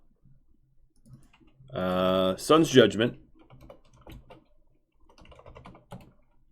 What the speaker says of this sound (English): Let me start typing these up